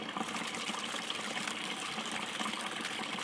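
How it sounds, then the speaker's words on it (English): Water gushes and pours steadily through an exterior bell siphon on a test build, a continuous close, even rushing flow with no voices. "When I turn the water back on, the siphon is still going. See how it flows back out."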